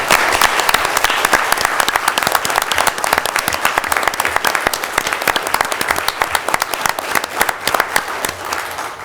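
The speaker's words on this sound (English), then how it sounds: "we give them all a round of applause" Applause for police chief applicants fills a township committee meeting room, a sustained burst of many hands clapping that starts strong and tapers slightly toward the end.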